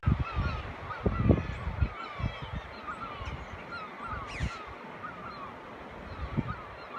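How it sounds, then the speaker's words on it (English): Seabirds call from Sugarloaf Rock off the south end of the Isle of Man, a busy colony of harsh honking and cackling cries heard from a distance over wind and surf. "just down there on the Sugarloaf Rock, it's absolutely full of birds"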